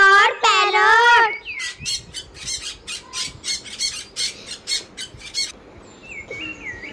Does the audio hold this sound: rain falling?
no